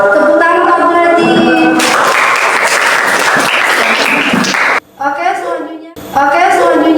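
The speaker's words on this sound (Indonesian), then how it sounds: "Tepuk tangan Pak Berarti." A classroom of students applauding after a group presentation, a burst of dense clapping lasting about three seconds between stretches of a teacher talking.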